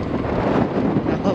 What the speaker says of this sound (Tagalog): yung hangin is salubong sa atin no?